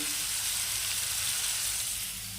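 Shrimp frying in a pan for pui shak, a steady close hiss and crackle of oil that holds loud and even throughout without talk.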